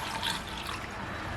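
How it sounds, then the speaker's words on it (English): Roughly a cup of water pours into a slow cooker for pulled pork, a steady splashing, trickling stream that stays even and close throughout, with no talk. "So let's get a cup of water also. All right, so we're gonna put about a cup of water in here."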